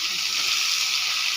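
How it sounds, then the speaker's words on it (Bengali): Ash gourd pieces sizzle in hot oil in a cooking pan, a steady, close hiss throughout with no voices. "চাল কুমড়োগুলো ছেড়ে দেব।"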